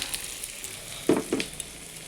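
Turmeric powder is sautéed in a pan: a faint, steady sizzle with a couple of soft stirring scrapes in the middle.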